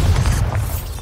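A Bombarda blasting spell detonates in Hogwarts Legacy, a short loud boom with heavy low thump and a crackling burst, lasting about a second and free of talk.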